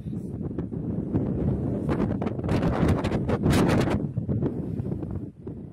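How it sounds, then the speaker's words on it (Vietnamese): Strong gusting wind of a large sandstorm in Gabès, Tunisia, buffeting the microphone in loud, roaring surges that peak in the middle and ease off toward the end. "một trận bão cát lớn với gió giật mạnh đã ập đến Gabès, Tunisia"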